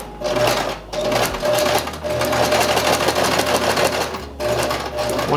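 A sewing machine runs a back stitch in rapid, steady mechanical bursts, the motor whirring close and loud with brief pauses between runs.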